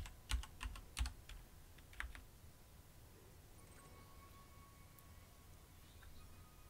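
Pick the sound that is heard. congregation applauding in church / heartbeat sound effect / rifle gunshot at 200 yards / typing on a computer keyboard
typing on a computer keyboard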